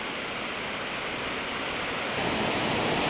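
Nawadaha waterfall on the Presque Isle River in Michigan roars as a steady, dense rush of falling water, loud and unbroken throughout, growing slightly stronger near the end, with no voices.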